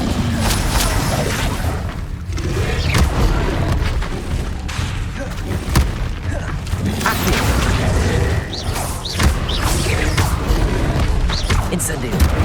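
Incendio fire spells cast in the action game Hogwarts Legacy, whooshing flame bursts and booming impacts within a busy, continuous combat din, with a voice calling out over it.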